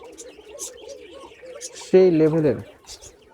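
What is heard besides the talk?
Bashiraj Koka pigeon cooing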